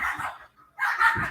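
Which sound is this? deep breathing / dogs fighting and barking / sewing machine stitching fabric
dogs fighting and barking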